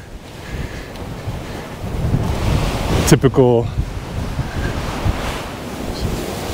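Strong wind gusts outdoors on a freezing spring day among Wyoming sandstone rocks, a loud roar buffeting the microphone, with a brief spoken word in the middle.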